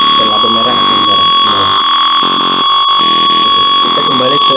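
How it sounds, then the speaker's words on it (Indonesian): An IoT prototype's buzzer sounding continuously once the temperature passes 33 degrees, a loud, steady high-pitched electronic tone held throughout, with muffled voices or noise underneath. "Apabila kondisinya lebih dari 33 derajat, maka buzzer akan berbunyi terus-menerus dan lampu merah akan menyala"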